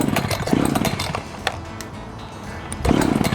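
An Echo CS-590 chainsaw has its starter cord yanked repeatedly with the choke on while the engine refuses to start, giving rough mechanical bursts near the start and end with a quieter rattling stretch between.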